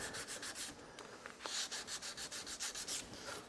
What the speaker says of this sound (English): you want to make sure you get them all nicely sanded